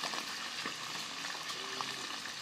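Catfish frying in hot oil in a home kitchen, a soft continuous sizzle with scattered small pops and crackles, fairly quiet and steady throughout with no talking.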